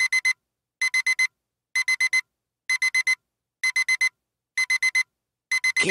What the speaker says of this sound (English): Gas detector.